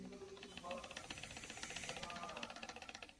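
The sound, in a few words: plastic intercooler deflector vibrating in Hyundai Creta/HB20 TGDI engine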